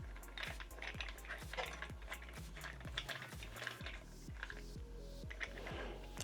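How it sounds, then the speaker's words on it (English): Screwing a part into a metal mounting bracket for a solar-powered security camera gives a steady run of small, close ratcheting clicks with faint metallic ticks, heard alone without talk. "all you need to do is screw this part in"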